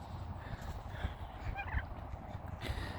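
Midget White heritage turkeys gobble in a farmyard, several rapid, bubbling gobbles overlapping at moderate distance against a steady low background rumble.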